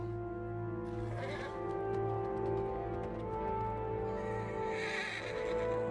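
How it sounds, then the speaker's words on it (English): Horses neigh in the Lego Lord of the Rings video game, with shrill whinnies over a sustained, swelling orchestral score, fairly loud and close. "May these horses bear you to better fortune than our former masters."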